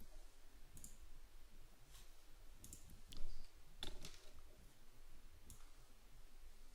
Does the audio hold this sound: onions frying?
no